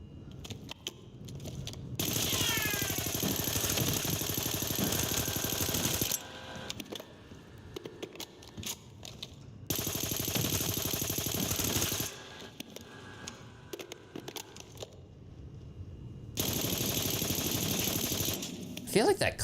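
An Amax rifle fitted with a monolithic suppressor in the Black Ops 6 video game fires in three long sustained bursts with rapid, dense, muffled reports, separated by gaps of quieter game sound and speech.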